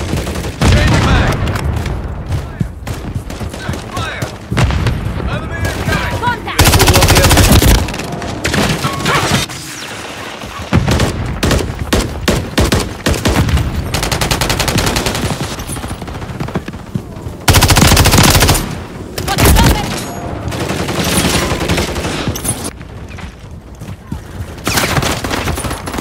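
Dense bursts of automatic gunfire from a Modern Warfare 3 multiplayer match, loud rapid rattles with short gaps and heavy blasts, shouted voices and radio chatter mixed in.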